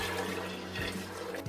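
Fish broth poured into a pressure cooker makes a steady liquid rush and gurgle, close and continuous for a moment.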